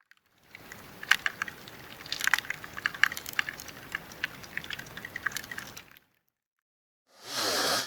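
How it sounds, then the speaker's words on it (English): Woodworm larvae chewing inside infested wood give faint, irregular crisp clicks and ticks over a low hiss, followed by silence and then a short burst of noise. "Sometimes you can even hear the worms chewing away inside."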